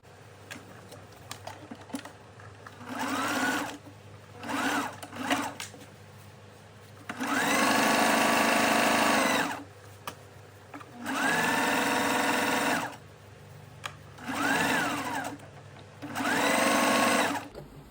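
A sewing machine stitches a fabric scrunchie in a run of separate motor bursts, some short and some a couple of seconds long, with quiet pauses between them and no talking.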